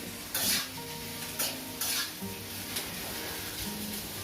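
Onion, garlic and green chilies fry in a pan while being stirred, giving a steady sizzle broken by several louder scraping strokes, close and clear with no talk.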